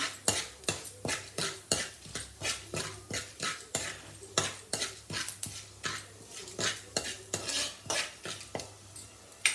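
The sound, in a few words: frying lentils in a pan with onion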